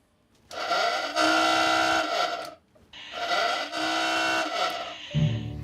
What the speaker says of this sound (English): And then we also have the dive alarm.